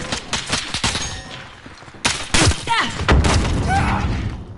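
Grenade blast and gunfire in a Modern Warfare match: sharp shots and booming thuds in rapid succession, close and loud, with a short lull before another heavy burst of fire.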